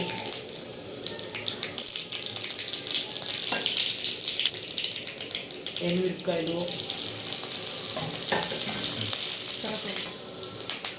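Oil sizzling and crackling steadily in a pan nearby as spices are tempered, with clinks of stirring and brief bits of talk in the background.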